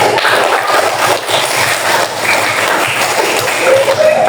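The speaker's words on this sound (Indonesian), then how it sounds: "Tepuk tangan." A classroom of people clap together in a dense, lively burst of applause that carries on steadily throughout, fairly loud and close.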